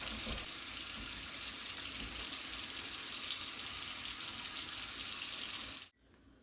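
A kitchen faucet runs steadily into a sink, a constant close hiss of flowing water that cuts off abruptly near the end, with no talking.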